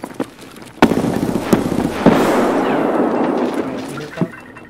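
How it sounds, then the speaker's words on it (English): A grenade goes off in the Escape from Tarkov shooter game, a loud blast with a long rumbling tail, preceded and followed by sharp gunshot cracks. "Граната тут!"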